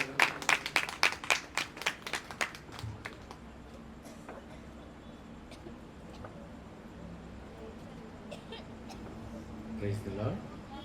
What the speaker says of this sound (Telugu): గట్టిగా చప్పట్లు కొడదాం వారు వస్తూ ఉండగా.